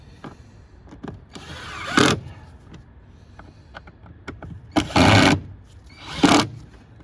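Cordless power screwdriver on a Vauxhall Astra J, driving air filter housing screws back in with three whirring bursts, the last two louder and close, separated by quieter handling clicks.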